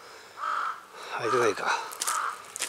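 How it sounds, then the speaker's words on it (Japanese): A crow caws a few times nearby in a park beside an ancient burial mound, harsh and nasal, with a person speaking briefly between the calls. "おお、またカラスか。"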